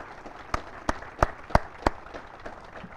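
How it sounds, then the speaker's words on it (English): Scattered audience claps for soldiers on the field at an Army Cadet Command change of command ceremony, a handful of sharp distinct claps in a slow uneven rhythm over a faint crowd murmur. "round of applause, please."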